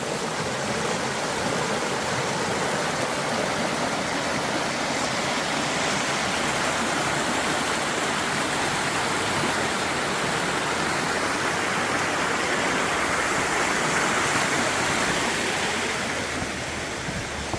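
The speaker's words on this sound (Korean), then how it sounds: "자, 물소리 한번 감상하겠습니다." Valley stream and waterfall flowing on a rural property, a dense continuous rush of water, loud and close, steady throughout with no voices.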